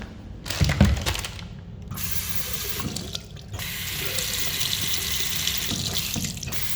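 Tap water running for hand washing, loud splashing into a sink that cuts off and restarts several times, with brief quiet gaps and some rubbing between bursts.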